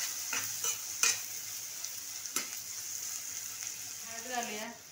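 Green masala paste with ginger-garlic paste frying in a pan for crab curry, a soft steady sizzle broken by several sharp spoon scrapes and taps against the pan, close and unaccompanied.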